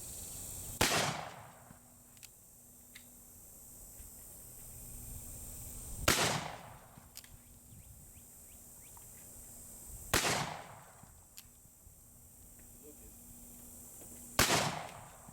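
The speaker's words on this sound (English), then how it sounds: "now we're going to check out the accuracy of the Pietta 1860 Army. We have 6 rounds." Four sharp shots from a Pietta Colt 1860 Army black powder revolver at handgun range outdoors, each a loud crack spaced a few seconds apart with a brief echo, faint insects buzzing between.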